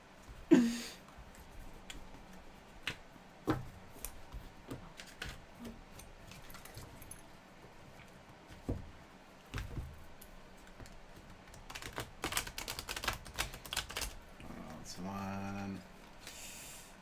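Tarot cards with a sticky texture being shuffled, heard as scattered riffling and tapping bursts that grow denser near the end, with faint talk in the background.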